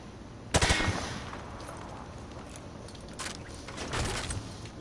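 Gunshots fire through plywood cover in Call of Duty Modern Warfare 2 Remastered, a few sharp cracks and short bursts over a steady low background rumble, fairly distant and moderate in loudness.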